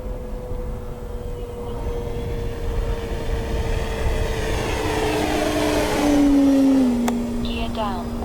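E-flite CZ T-28 RC model plane making a low flyby pass, its electric motor a rising whine that swells and shifts pitch as it passes close, with someone talking over it.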